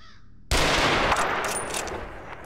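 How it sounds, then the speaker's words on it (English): Gunfire from a pistol in STALKER: Shadow of Chernobyl bursts in loudly after half a second of near silence, then carries on as a dense, sustained volley with scattered sharp cracks. "He's using a little pea shooter at me."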